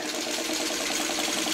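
A sewing machine stitches a quilt border, a fast, even mechanical whirring with a steady rapid needle rhythm, heard up close with no talking.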